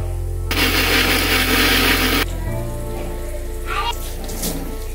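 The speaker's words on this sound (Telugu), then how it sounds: "తర్వాత మసాలా మిక్సీ పట్టుకుందాం." A kitchen mixer grinder grinds masala for a gongura prawn curry in one loud, whirring burst of about two seconds. The motor then winds down, leaving a low background hum.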